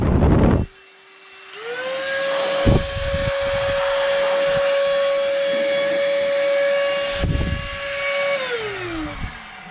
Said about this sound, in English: It's like a mini blower